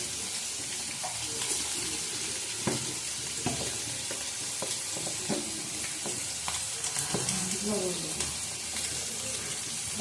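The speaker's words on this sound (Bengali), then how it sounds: "ভালো করে আগে নাড়ব।" Turmeric is stirred in a frying pan with quiet scraping strokes and light clinks over a faint sizzle, with faucet-like running water and kitchen noise in the background.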